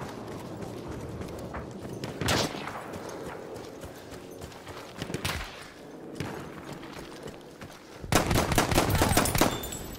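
Gunfire in the World War I shooter Battlefield 1: sharp broadband bursts of shots at about 2.3 s, 5.3 s and a sustained volley near 8–10 s, loud and close amid battlefield clatter and hoofbeat-like noise, with no talking.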